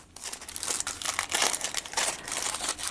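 Plastic wrapping is crinkled and peeled off a boxed pocket-sized Matronua Tarocchi Italiani tarot deck, a close, continuous crackling and crumpling with no talking.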